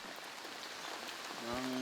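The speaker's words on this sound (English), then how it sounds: "It's been raining since midnight." Steady rain falls at a fishing village on the Indian coast during stormy easterly winds, a soft continuous hiss with faint drips, and a voice begins to speak at the end.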